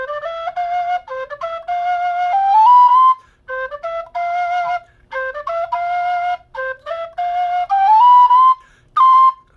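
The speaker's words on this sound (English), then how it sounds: "So it's a breathier tone than some whistles. It's not a particularly loud whistle" Breathy alto G tin whistle made by Sergey Vertletskii plays a clear melodic line of sustained notes with short gaps between phrases, moderately loud and close, with no voices.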